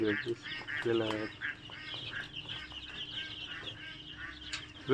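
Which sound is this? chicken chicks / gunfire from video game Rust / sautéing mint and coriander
chicken chicks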